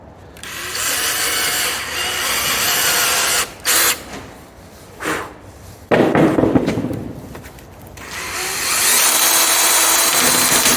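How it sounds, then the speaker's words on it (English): A power drill whirs loudly as it bores into wood, running in several bursts of varying length with short pauses, then a long final run. "so now we're going to use a bigger drill and get the hole bigger."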